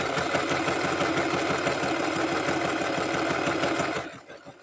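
Sewing machine zigzag stitching a fabric rag rug, a fast regular needle rhythm running steadily up close before stopping abruptly near the end.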